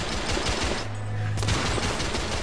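Video game gunfire in The Order: 1886 comes as dense, loud, rapid bursts of shots that overlap throughout, with a brief low booming tone midway.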